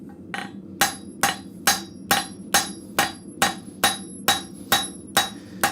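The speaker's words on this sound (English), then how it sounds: "I'm coming in with my cross peen to try and spread the material where I need it" A blacksmith's cross peen hammer spreads scrap metal in about a dozen loud, evenly spaced ringing blows at roughly two per second, each with a bright metallic ring, close and alone.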